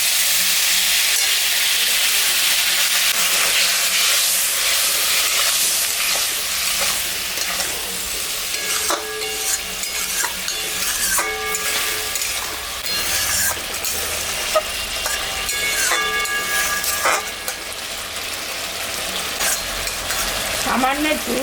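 A ground paste of ginger, cumin, dried and green chillies fries loudly in a pan, a dense continuous sizzle with stirring scrapes and clinks throughout.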